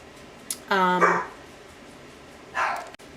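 Several dogs bark at home as someone arrives: a loud burst of close, excited barks, a short pause, then another brief bark.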